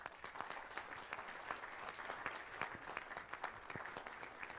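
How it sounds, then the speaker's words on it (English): A crowd at a productivity conference applauds steadily, dense clapping held at an even level throughout, heard from some distance. "maybe a round of applause for all of them."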